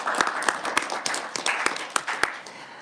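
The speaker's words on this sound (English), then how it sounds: "So let's give them a round of applause." Brief applause from a small group at a Senate committee hearing, distinct separate hand claps in an uneven rhythm, moderately close and unaccompanied by speech.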